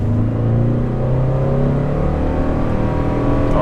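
A 2021 Toyota Sienna hybrid minivan accelerating, its steady, fairly loud drivetrain hum rising smoothly in pitch from inside the cabin with no talk.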